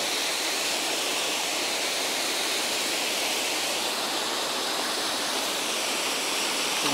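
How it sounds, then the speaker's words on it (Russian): Waterfall on a river in Toila, Estonia, in icy winter conditions, a loud, unbroken broadband rush of falling water with a steady roar throughout and no voices heard. "О, водопад был."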